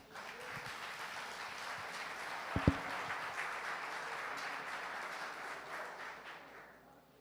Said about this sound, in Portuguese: pode se assentar, aplaudindo a Deus mais uma vez.